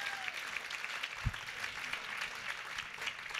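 An audience at a summit applauds, a steady, moderately dense clapping from a crowd with a brief thump partway through.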